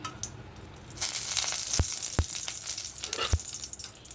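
A spoonful of ghee heating in a wok on low to medium flame, a soft steady crackle and sizzle, punctuated by three sharp metallic knocks close by.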